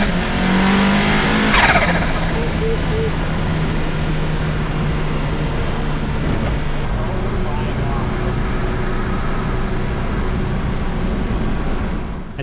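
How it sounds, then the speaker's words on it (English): A red 500 hp Mazda Miata drives around town, its engine droning steadily and close by with a brief whoosh of passing traffic early on; a voice talks over it throughout. "rolling it out of the driveway and immediately blasting around town"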